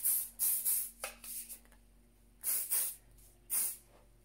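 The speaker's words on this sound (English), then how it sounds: "I'm just going to pop a bit of hairspray through." Short bursts of hairspray from an aerosol can hiss onto short, fine hair in several separate puffs, close and fairly soft, with quiet pauses between them and no voices.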